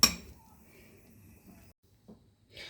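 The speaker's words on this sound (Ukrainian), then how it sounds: "І будемо ретельно розмішувати." A spoon stirs milk starch kissel in a pot, opening with a sharp metallic clink against the pot, then quiet, faint scraping and a soft rustle at the end.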